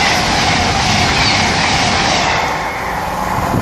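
A Voyager diesel train passing through Acton Bridge station, heard close and loud as a continuous roaring rush with rail clatter and a faint wheel squeal, easing slightly toward the end.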